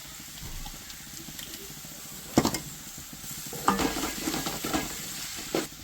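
Ginger and garlic sauté in a pan for mutton biryani, giving a low steady sizzle broken by sharper scraping bursts from a stirring spoon, loudest in the second half. A faint voice may sit underneath.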